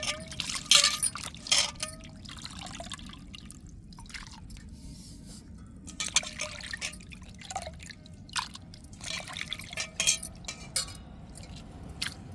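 Prawns are rinsed in water, with close, irregular splashing, dripping and trickling and the odd clink of a vessel against a low steady background, no speech.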